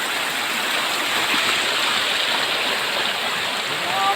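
A forest stream flows steadily, its water rushing in a constant, close, broadband hiss with no other sounds.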